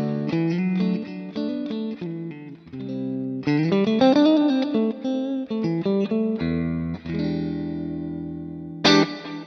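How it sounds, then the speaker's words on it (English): Electric guitar through an Axe FX amp model, played lightly on a clean tone and then picked harder so the amp front end starts to drive, with ringing chords and single notes, a slight edge of breakup and some reverb. "I can play really lightly and get some really clean tones out of it. But as I pick harder, we start to drive the front end of the amp."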